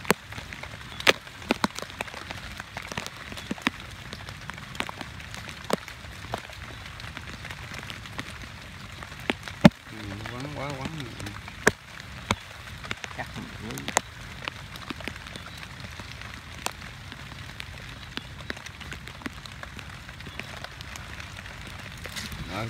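Steady heavy rain from a storm hisses over a riverside snake-trapping spot, with scattered sharp drops and knocks through the background; a voice speaks briefly partway through.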